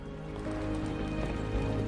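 A horse gallops in a video game trailer, quick hoofbeats thudding under a low, droning musical score.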